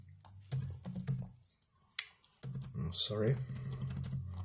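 Keyboard typing of a change-directory command on a computer, quick clustered keystrokes in bursts, close and fairly quiet, interleaved with a man's speech.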